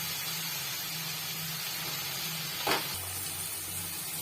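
Garlic and mutton sizzle steadily in a hot pan, a constant frying hiss, with a brief louder splash as a large tomato is added partway through and the sizzle then continues.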